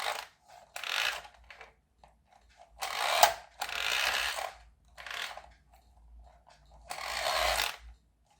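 A KS Toys Bat Hero Gold Blaster wire-control toy car's steering ratchets loudly in several short grinding bursts, with quiet gaps between them.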